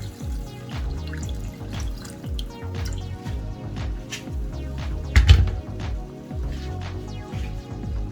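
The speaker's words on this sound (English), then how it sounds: "So I'm going to be adding about a cup of water." About a cup of water pours and splashes into a cooking pot for fish curry, with gurgling, rising tones as it fills, close and fairly steady.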